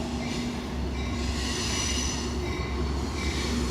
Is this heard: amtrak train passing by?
yes